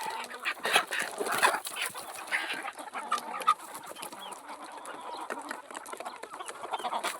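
Desi (gavran) chickens crowd an enclosed coop, and many birds cluck and chatter at once in a continuous, moderately faint murmur with no talking.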